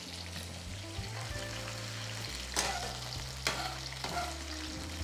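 Pieces of squid for squid 65 deep fry in oil, bubbling and crackling steadily at low volume, with a low hum underneath and a few clattering stirs.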